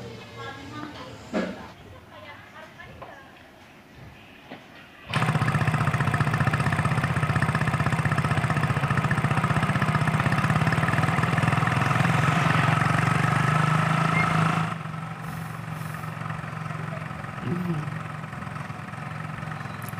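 A motorcycle engine idling close by, a loud, steady mid-pitched rumble that starts abruptly, runs for about ten seconds and then drops away, with quieter background noise and occasional voices before and after.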